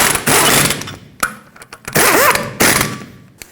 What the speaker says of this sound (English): I'm going to put 2 lug nuts on and bottom them out gently